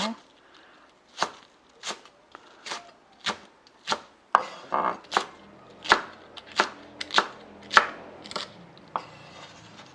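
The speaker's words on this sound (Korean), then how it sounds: "부추를 이렇게 먹기 좋게 이렇게 썰어 놓습니다" A knife chops garlic chives on a cutting board in a steady series of sharp, close thuds, about one per second, speeding slightly toward the end, with no talking.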